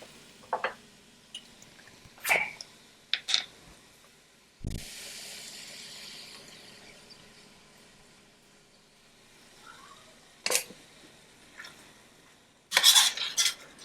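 Salmon alfredo pasta with spinach stirred in a pan, with scattered scraping and clinking of a utensil against the pan and a soft simmering hiss between strokes, close and without talk.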